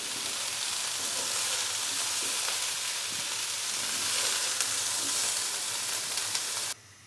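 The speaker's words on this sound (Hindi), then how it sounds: "गोभी को हल्का सा फ्राई कर लिया है।" Cauliflower frying lightly in hot cooking oil in a wok, a steady close sizzle and hiss that continues without a break for several seconds, with no talking, then cuts off abruptly.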